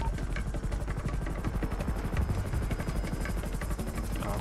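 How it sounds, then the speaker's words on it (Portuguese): A helicopter in the video game GTA 5 roleplay, its rotor thumping in a steady rapid chop with a constant engine whine, loud and close throughout. "Olha aí pra mim o helicóptero."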